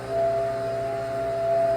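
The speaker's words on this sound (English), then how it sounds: "Just making a shot of espresso." Espresso machine pulling a shot in a home kitchen, a steady pump hum with a sustained tonal whine running throughout, close and alone without talk.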